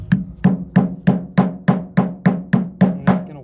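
A small hammer taps a screwdriver wedged against a seal during a thumb ram repair on a CAT 305.5 excavator, striking about ten sharp, evenly spaced metallic knocks, close and loud, with no talking.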